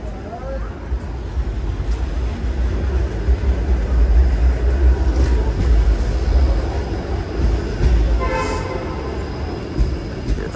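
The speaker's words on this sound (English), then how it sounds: "Here comes the 503 Kingston streetcar." Toronto 503 Kingston streetcar passing on a downtown street during evening rush hour, a loud sustained rumble of wheels and motor with a brief horn toot, amid city traffic noise.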